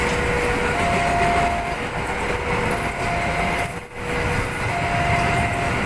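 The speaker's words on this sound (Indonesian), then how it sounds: "Kereta api Ambarawa Express. Itu kereta lokomotif vintage ya." The vintage Ambarawa Express locomotive train rolls past a level crossing near Surabaya, a loud, steady, close rumble of wheels and cars that fills the whole stretch without pause.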